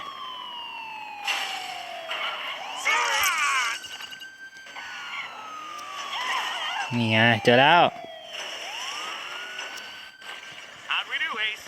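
A police car siren in the video game Gangstar Vegas wails in rising and falling sweeps over engine and street noise, swelling loudest near the middle, while someone talks over it.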